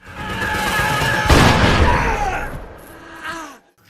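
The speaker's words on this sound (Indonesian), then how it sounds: "setelah berhasil mendaratkan peluru di dada Carl" A loud, sharp blast cuts through a dense, chaotic mix of noise, followed by a lingering rumble that fades out.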